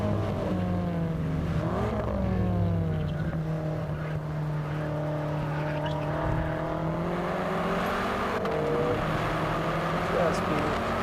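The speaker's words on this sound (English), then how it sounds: "Get your foot flat down. And this car is just picking up speed like you will not believe" A BMW M5 accelerates hard around the Buddh International F1 Circuit, its engine note climbing steadily through the gears, loud and close from inside the cabin, with someone talking over it.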